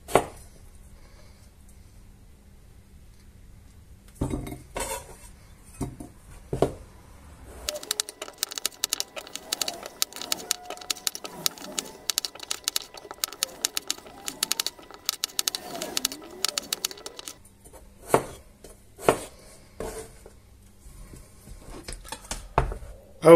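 A knife cubes potatoes in short scattered bursts of sharp taps on a board, close but fairly quiet, with a stretch of faint busy rustling in the middle and no talking.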